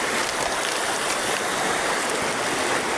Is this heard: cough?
no